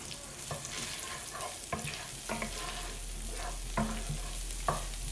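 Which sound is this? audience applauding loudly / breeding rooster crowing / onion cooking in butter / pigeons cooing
onion cooking in butter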